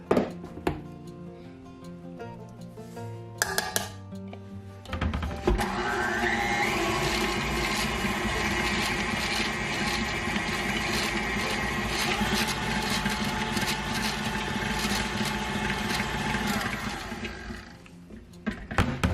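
An electric hand mixer creams butter with packed brown sugar for gluten-free banana bread, a steady loud whirring drone running for about twelve seconds after a short start, with faint clatter before it begins.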